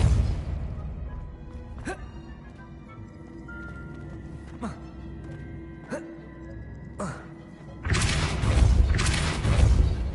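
Spell impacts in the Hogwarts Legacy video game: several sharp, booming blasts spaced a second or two apart, each ending quickly, followed by a denser, louder stretch of rumbling noise near the end.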